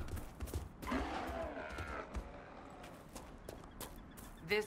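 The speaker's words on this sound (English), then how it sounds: "Horses." Horses' hooves clip-clop in the Dragon Age Inquisition video game, irregular thuds of walking steps with a brief whinny-like burst near the end, over faint game ambience.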